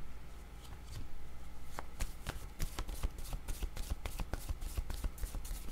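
Tarot cards shuffled by hand, a quick run of crisp riffling taps and flicks, moderately close and steady throughout, with a faint low hum underneath and no one speaking.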